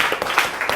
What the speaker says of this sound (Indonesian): Bisa berikan tepuk tangan untuk Mbak Jasmine.